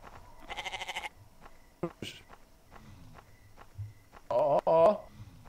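A goat in a video game lets out two short, wavering bleats, one early and one near the end, set against light footsteps and quieter game sounds, with voices talking in between.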